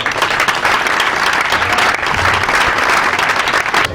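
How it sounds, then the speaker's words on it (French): Dense, sustained audience applause fills a crowded event honoring maritime Ogooué and Port-Gentil, a steady wash of many hands clapping loudly throughout with no pauses. "Je vous demande de vous applaudir."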